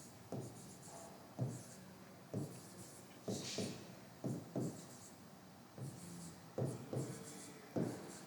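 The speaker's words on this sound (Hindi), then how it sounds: "मैं तब तक इन्हें लिख देता हूं।" Chalk or marker strokes on a board during a class lesson, a quiet run of separate scratchy taps and short scribbles at an uneven pace, heard up close with no one talking.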